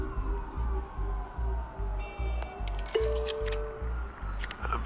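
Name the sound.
police car sirens in Batman Telltale video game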